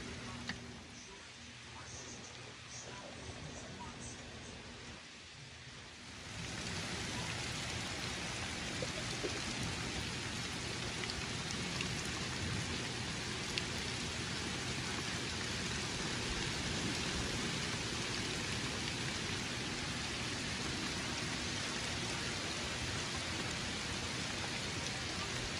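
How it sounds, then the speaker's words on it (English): Heavy rainstorm pouring outside an RV, a dense steady roar of rain on the surface that swells louder after a few seconds and continues unbroken, with faint low rumbles. "Rain is coming down."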